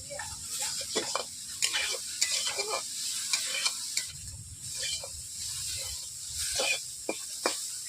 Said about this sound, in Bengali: আমি হলুদ দেওয়ার পর এইভাবে আমি 3 মিনিট ধরে নাড়তে থাকলাম